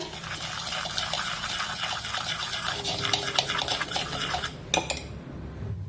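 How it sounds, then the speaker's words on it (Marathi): Semolina batter for sweet appe being stirred in a bowl, a utensil scraping and clinking against the sides in a steady, close mixing rhythm with no talking. "मिक्स करून घेऊया।"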